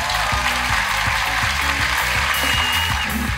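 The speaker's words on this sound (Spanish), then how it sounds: "un fuerte aplauso, por favor" A studio audience at a Peruvian television game show applauds, dense steady clapping filling the space alongside rhythmic percussive music, loud and continuous.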